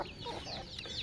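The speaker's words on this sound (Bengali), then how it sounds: "এই দেখুন আমার দেশি মুরগির খামার" Free-range desi chickens clucking on a small farm, soft overlapping clucks and short hen calls at a moderate distance, quiet and continuous with no talking.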